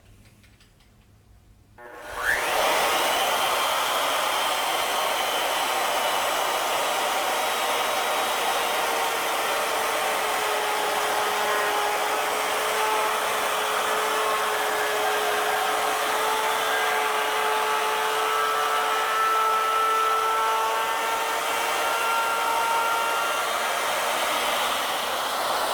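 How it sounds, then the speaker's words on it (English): Plunge router cutting a barley twist into a wooden workpiece: after a brief quiet moment the motor spins up and holds a loud, steady high whine for over twenty seconds. "We're going to plunge the shoulder of the router bit right down on the surface of the workpiece and lock the plunge bar."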